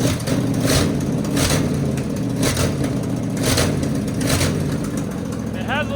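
A car engine with a small exhaust leak runs steadily at close range, a low rumbling idle marked by regular louder pulses, with a short bit of speech near the end.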